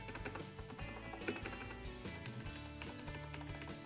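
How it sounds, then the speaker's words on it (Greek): Cooler Master CM Storm TK Stealth mechanical keyboard being typed on, a dense, continuous run of close, crisp key clacks with no voices. "και πώς κάνουν τα πλήκτρα."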